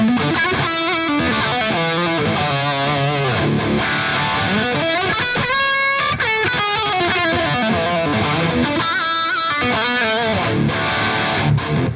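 A heavily distorted electric guitar plays chugging rhythm chords and riffs through an amp at NAMM 2024, loud and continuous with a touch of reverb.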